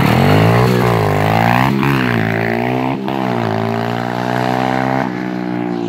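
A modified SSR125 motorcycle accelerating hard, its engine revving up in rising harmonic sweeps with brief drops at gear changes including the shift into second, loud and close, no talking.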